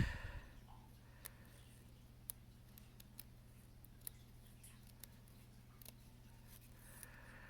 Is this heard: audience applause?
no